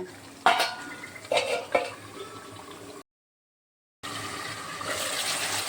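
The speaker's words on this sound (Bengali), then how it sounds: "একটু পরে পরে আমি ঢাকা খুলে দিয়ে নেড়ে দেব যাতে তলায় ধরে না যায়।" A lid comes off a pot of village-style chicken curry cooked in ground spices and the contents are stirred, with three sharp metallic clanks and scrapes, a brief silent gap, then a steady bubbling hiss.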